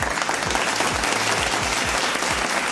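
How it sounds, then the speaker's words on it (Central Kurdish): Studio audience on a quiz and gift show gives a dense, steady round of applause that holds at an even level throughout. "چەپڵەکانتان."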